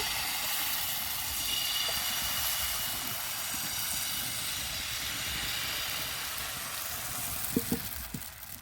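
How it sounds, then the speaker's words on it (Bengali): Patishapta batter in an oiled pan gives off a steady, close sizzling hiss that holds evenly throughout, with a few faint clicks near the end. "তেল লাগানো হয়ে গেছে এখন আমি ব্যাটারটা দিয়ে দেবো"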